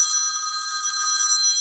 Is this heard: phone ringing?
yes